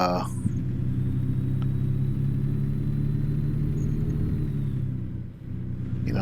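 A loud truck engine in a video game hums at a steady, constant pitch, a deep droning rumble that holds unchanged for the whole stretch, with a brief dip near the end.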